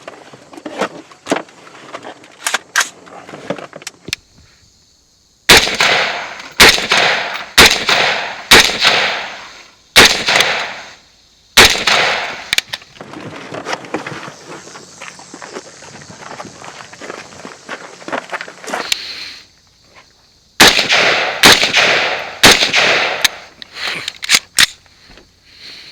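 Rifle shots ring out in rapid bursts at steel plates and a Texas Star during a two-gun match stage, sharp loud cracks in clusters separated by brief pauses, with movement sounds and steel rattling between strings of fire.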